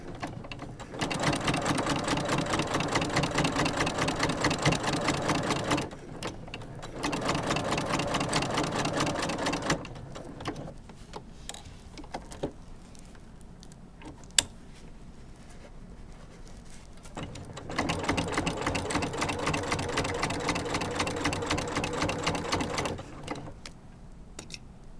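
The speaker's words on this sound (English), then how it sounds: "we're just going to go around and top stitch at the edge" A sewing machine top-stitches around the edge of a quilted mug rug in loud, steady bursts of rapid needle patter, separated by pauses filled with small handling clicks, and no one speaks.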